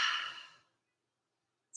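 A soft, slow exhale during desk stretches, a gentle breathy whoosh close to the mic that tapers into silence, followed by the faint start of another breath.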